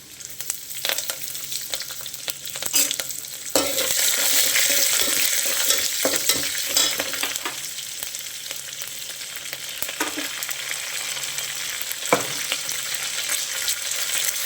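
Curry leaves and green chillies crackle and sizzle in hot oil, a steady dense frying hiss with sharp pops and spits near the start and again around the middle, occasional stirring, no voices.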